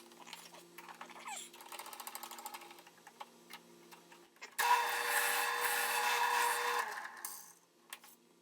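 A drill press cross slide cranked by hand, soft rhythmic ratcheting clicks at first, then a louder whirring grind for a couple of seconds before trailing off, close and alone.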